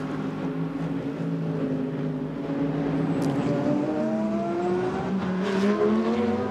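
GT race cars at the 24 Hours of Spa 2022 roar past side by side, engines droning and shifting pitch as they head down toward Les Ors, with no voices heard.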